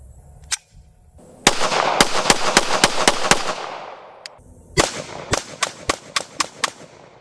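Rapid pistol fire from an HK P7 M13 on a shooting range: a single opening crack, then a quick string of about eight sharp reports, a short pause, and another fast burst of about seven shots, loud and close with no talking.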